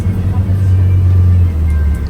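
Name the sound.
bus ride engine and road noise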